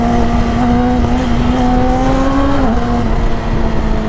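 A 600cc Yamaha R6 or Kawasaki ZX6R sport bike engine with a 16,000 RPM redline holds a loud, steady high-pitched drone, pitch wavering slightly and dipping briefly near the end, with no talk.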